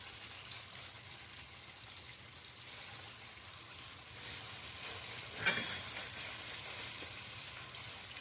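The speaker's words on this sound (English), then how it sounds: "put a little bit of oil in the pan, and we're going to let these onions wilt" Onions wilting in a little oil in a pan give a faint, steady sizzle throughout, with a brief louder clatter midway before the soft hiss continues alone.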